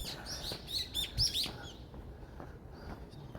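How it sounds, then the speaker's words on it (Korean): Several small birds chirp and tweet in short bright bursts on an early morning walk outdoors, fairly close, over a low steady background hum, fading out after the first second and a half. "제 새소리 들리고요"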